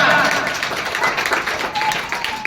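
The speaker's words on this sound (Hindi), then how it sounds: "इनके लिए जोरदार तालियां।" Loud applause for a student at a school results and farewell ceremony: a crowd claps steadily and densely for a couple of seconds, close and sustained.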